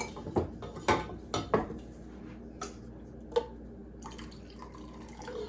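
Pots and dishes clink and clatter in a home kitchen while warm honeysuckle jelly is strained and poured, with several sharp knocks and faint dripping between them.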